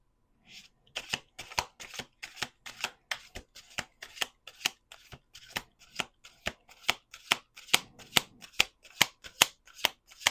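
Tarot cards are shuffled in quick, steady bursts, a crisp riffling repeated over and over at close range with no talking.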